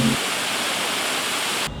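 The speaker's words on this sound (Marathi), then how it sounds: "धबधबे कोसळू लागतात. आवेश असा जसे काही थेट आकाशातूनच कोसळत आहे." Monsoon waterfalls at Dajipur crash down in a loud, steady, dense roar that fills the whole moment before cutting off abruptly.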